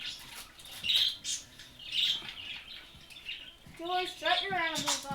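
Pet birds squawk and chirp indoors in repeated shrill bursts, growing busier and more harmonic toward the end, with people talking in the background.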